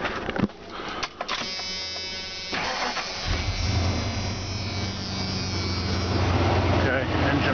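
A car engine cranks with a starter whine, catches and settles into a steady rumbling idle, close and loud, with brief clicks as it turns over.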